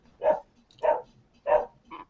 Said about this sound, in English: Who's barking? My dog.